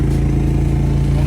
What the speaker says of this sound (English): Quiet run generator.